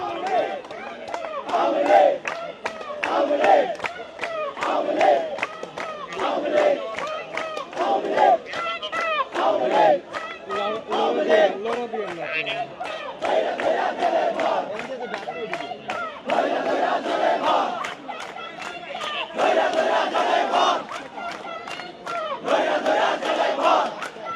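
A protest crowd demanding an Awami League ban chants slogans in loud, rhythmic call-and-response bursts, many voices shouting together again and again over roughly twenty seconds.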